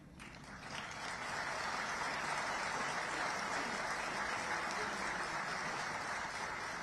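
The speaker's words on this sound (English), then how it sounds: "I will appeal to the boys to clap more." A hall full of students at a college Founders' Day event claps together, a dense, steady wash of applause that swells in within the first second and holds evenly to the end.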